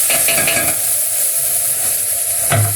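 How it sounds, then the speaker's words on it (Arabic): Rice mixture being stirred in a cooking pot, with a continuous sizzle under repeated scraping and stirring strokes of a spoon and a louder knock of the utensil against the pot near the end. "اقلبهم كويس مع بعض"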